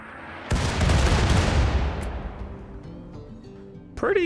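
A volley of mortars fires in the game RimWorld: a loud, dense burst of booming blasts starts abruptly and then rumbles and decays over several seconds, with a sharp new sound at the very end.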